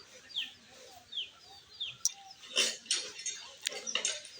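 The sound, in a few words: chickens clucking while eating straw on family farm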